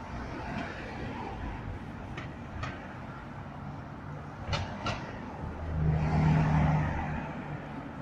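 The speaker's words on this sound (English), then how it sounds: "It's a busy little road to the car park" Cars go by on a busy little road leading to a car park in Bournemouth, a steady low traffic rumble with a louder vehicle swelling past near the end.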